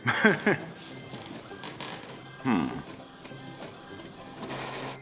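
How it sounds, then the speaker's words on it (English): An inkjet printer runs while feeding a piece of lavash flatbread, giving two loud mechanical whirring bursts with rising pitch sweeps and softer motor hum between them. "What a greedy printer."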